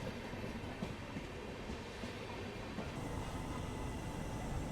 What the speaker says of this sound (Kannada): ಯಾದಗಿರಿ ರೈಲ್ವೆ ಸ್ಟೇಷನ್ ಎಂಟ್ರ್ ಅದೀವಿ ನೋಡ್ರಿ